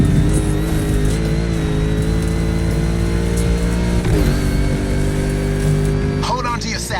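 A Mustang's engine roars steadily while racing through a swamp course in The Crew Motorfest, loud and close with sustained revving, with music and a voice over it.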